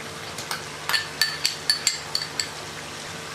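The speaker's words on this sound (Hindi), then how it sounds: "अब हम इसमें डालेंगे अदरक और लहसुन का पेस्ट" Ginger garlic paste goes into a karahi of softened onions and tomatoes for chicken karahi, bringing a faint sizzle under a series of sharp metallic clinks of a utensil against the pan in an irregular rhythm.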